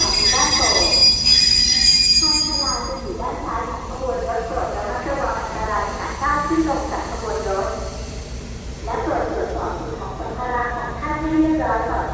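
Passenger train number 251 stopping at Ban Pong station in Thailand, a loud rolling rumble with long shrill wheel squeals repeating as it slows, voices faintly mixed in.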